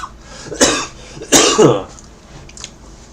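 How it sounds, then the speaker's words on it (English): Two loud, harsh coughs close to the mic, about a second apart, followed by a faint third rasp. "I'm sucking down on a cough drop like there's no tomorrow, so hopefully the coughing will simmer down"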